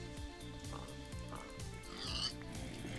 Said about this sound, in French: Là, il y a du cochon. Je vais tuer du cochon pour me faire un peu bouffe.